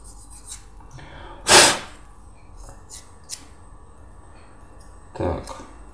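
Scraping an ejector pin mark off a plastic part from a Tamiya 1/48 F4U-1 Corsair model kit, with two short, clear rasping strokes and a few faint ticks in between.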